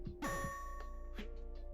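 A doorbell chimes once over a steady low hum, a short bright ding-dong whose tone lingers before fading, with a faint second tap near the end.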